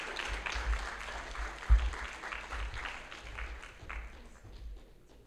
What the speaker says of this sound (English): please give a round of applause to Princess Angelika as she takes the stage